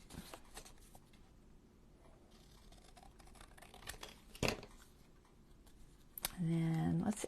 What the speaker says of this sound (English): See if I can cut it straight.